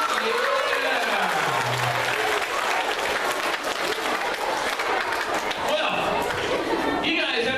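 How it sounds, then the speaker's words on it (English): A large middle school show audience applauds loudly and continuously, with voices cheering and talking through the clapping. "Everybody give her a very big round of applause"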